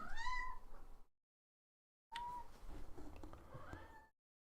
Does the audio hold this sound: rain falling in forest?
no